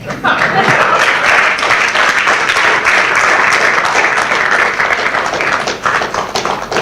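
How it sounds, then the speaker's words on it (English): A TEDx audience listening to a talk on food security breaks into loud, continuous hand clapping that fills the whole stretch at an even level. "As you are clapping your hands"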